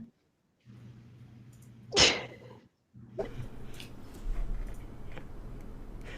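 A single sharp sneeze bursts out near the mic, followed by a short pause and then a low, steady background hum.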